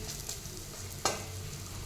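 Masoor dal fritters fry in oil with a soft, steady sizzle close by. A single brief scrape of a utensil sounds partway through, and no voice is heard.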